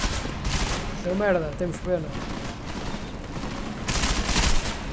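Gunfire in the video game Deus Ex: Mankind Divided comes as dense bursts of shots mixed with game effects and background noise, while someone speaks over the action.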